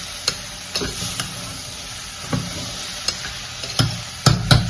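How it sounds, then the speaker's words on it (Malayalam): Continuous sizzle of salted peas curry base frying, punctuated by several sharp scrapes and knocks of a spatula against the pan at irregular intervals. "ഇനി കുറച്ച് ഉപ്പ് ഉപ്പും പാകത്തിന് ഉപ്പും ഇട്ടിട്ട് ഒന്നുകൂടെ ഫ്രൈ ആക്കാം"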